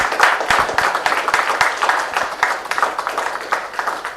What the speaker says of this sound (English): A big round of applause for the winners of tonight.